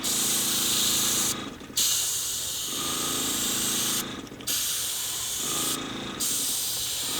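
An airbrush sprays paint around the edge of a craft piece, a bright airy hiss in several bursts separated by short pauses while the compressor hum continues underneath, close and steady.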